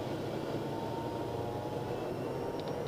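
A TBM850 turboprop engine spooling up for the takeoff roll, a steady dense roar with a whining high tone, loud and continuous throughout from inside the aircraft.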